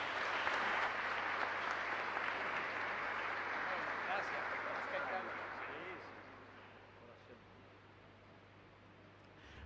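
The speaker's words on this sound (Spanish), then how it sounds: "un caluroso aplauso de padre cabaña" A church congregation applauds a priest during Mass, with dense, steady clapping that fills the space and then thins and fades toward the end.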